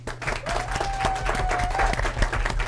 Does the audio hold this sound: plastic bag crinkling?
no